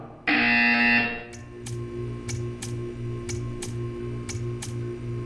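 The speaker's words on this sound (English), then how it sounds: "When you hear the buzzer, stare at the art" In the video game Portal 2, a loud harsh buzzer blares for about a second, then gives way to a quieter, regular mechanical ticking.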